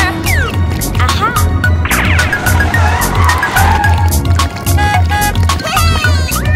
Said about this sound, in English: Sister drives a car to rescue.